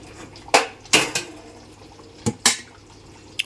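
Metal spoon stirring coriander into chicken liver and ulavakayalu curry in a pan, giving a few sharp scraping clinks against the pan, spaced out and close, with quiet gaps between.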